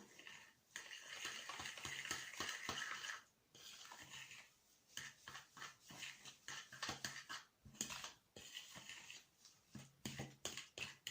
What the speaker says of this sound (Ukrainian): Знову перемішую.